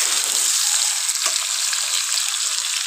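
Chicken frying with onion and garlic in hot oil, a loud, dense and continuous sizzle close by with a brief stirring scrape, no voices.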